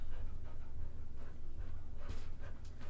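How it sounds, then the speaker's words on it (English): A dog pants steadily and close by for the whole stretch, breathing in a fast, even rhythm with a few faint whimpering breaths and no one talking. "It's Max the motherfucking dog."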